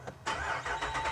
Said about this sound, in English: We're going to start the Jeep up